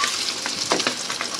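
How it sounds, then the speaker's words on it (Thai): Beaten egg omelette with naem (Thai fermented pork) frying in hot oil, giving a steady close crackling sizzle with a few brief bursts of stirring or scraping, and no talking. "น้ำมันร้อนแล้วใส่ลงไปเลย เราก็เจียวตามสะดวกเลยนะคะ"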